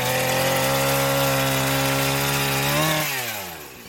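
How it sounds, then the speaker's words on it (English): A chainsaw cuts a sedated rhino's horn during dehorning, roaring loud and steady close by, then the engine pitch sags and drops away near the end. "The vet carefully manoeuvres a chainsaw."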